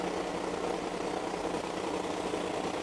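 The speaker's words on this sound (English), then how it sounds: "Fire engine? Really?" A fire engine's engine idling nearby, a steady low diesel rumble and vibration that holds at an even level throughout, with no voices.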